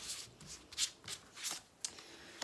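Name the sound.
drawing tarot cards from the deck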